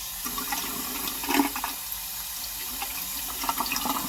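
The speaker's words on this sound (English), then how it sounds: "I rinse it off before I use it." Tap water running steadily into a sink as chives are rinsed, a close, continuous splashing rush with small fluctuations and no talk.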